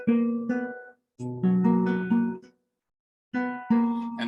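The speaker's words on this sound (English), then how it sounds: "And this is an open string trill" Classical guitar playing short phrases with an open string trill, bright plucked notes in brief bursts separated by silent gaps, close and clear with no talking.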